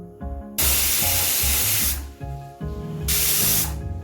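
Pressure cooker whistle hissing out steam while mutton boils on the stove, two long loud bursts of spraying hiss over a steady low bubbling rumble.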